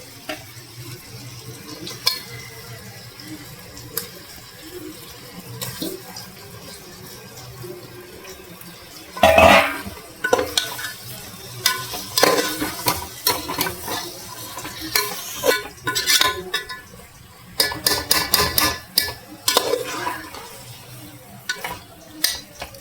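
Pieces of mutton go into a pot of spiced masala and get stirred, giving a low simmering sizzle broken by bursts of scraping and clattering from the spoon, close and intermittent, with no one talking.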